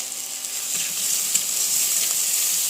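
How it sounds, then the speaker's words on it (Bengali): Onions frying in a pan for egg curry give off a steady, close bright sizzle with faint stirring scrapes and no talking. "কত তাড়াতাড়ি দেখো পেঁয়াজ গলা আমার ভাজা হয়ে গেল"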